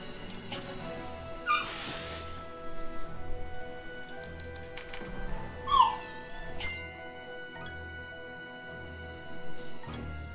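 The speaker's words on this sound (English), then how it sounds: "little puppy got a bit upset that her playtime was over" A little puppy whimpers after playtime ends: several faint, high whines and yips scattered over ten seconds, heard over quiet ticking and low background noise.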